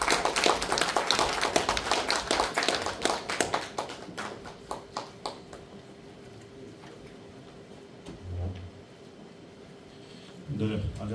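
Audience clapping to welcome a baritone to the stage of a community hall performance space, a burst of dense applause that thins into scattered claps and fades, with talk following.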